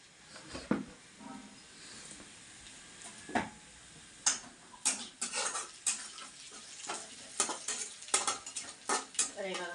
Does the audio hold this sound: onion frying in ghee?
yes